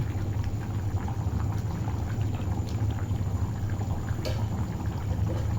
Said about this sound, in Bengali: বুটের ডালটা দিয়ে দিলাম এখন একটু কষানো হবে তারপর একটু ঝোল দেব